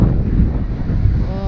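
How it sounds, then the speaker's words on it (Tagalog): Wind sweeps across a hilltop overlook during a bike ride, a loud, continuous low rumble buffeting the microphone with no letup. "Sarap ng hangin dito."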